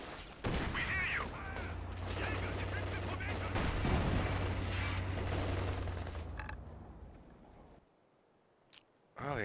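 Mortar and artillery fire in Company of Heroes 2, a loud sustained barrage of blasts and gunfire with a low rumbling drone, which cuts out abruptly near the end and leaves near silence before a final burst.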